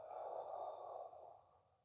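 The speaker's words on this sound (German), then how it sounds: "Jetzt atme mal durch die Nase ein und aus." A single breath through the nose during a lung-volume breathing exercise, a soft airy hiss that holds steady then tapers off, faint and close with no talking.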